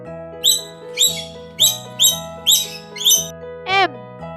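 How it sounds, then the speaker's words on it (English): A lovebird gives about seven short, sharp squawking chirps in a quick, regular rhythm over soft background music, ending with a brief sweeping whistle. "Lovebird."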